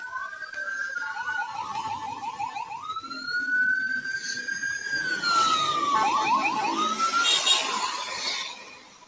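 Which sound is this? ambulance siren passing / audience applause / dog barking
ambulance siren passing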